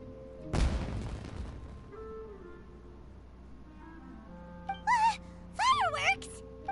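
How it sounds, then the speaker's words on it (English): A firework bursts in Genshin Impact, one sharp loud boom early on that fades into a rumbling tail, followed later by brief high warbling tones. "It sounded like fireworks."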